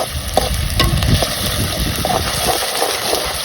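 Tomato and onion gravy simmers in a pan for village-style corn curry while a spoon stirs it, producing close scraping clatter over a bubbling sizzle, with a steady high tone in the background.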